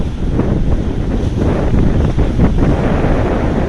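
Strong west wind buffets the microphone in loud, continuous gusts at Bakauheni harbour on the Sunda Strait, with waves washing underneath and no one speaking.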